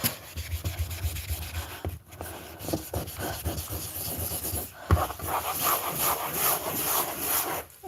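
Someone scrubs green growth off a wall and baseboard by hand, making close, uneven rubbing and scraping strokes with short pauses between bursts.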